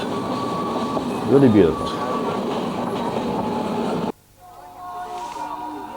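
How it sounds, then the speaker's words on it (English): A train passes close by near Hangzhou with a steady, loud rumble and rattling wheels that cut off abruptly, leaving a quieter hum. A person speaks briefly over the noise. "a brief stop to allow a train to pass by"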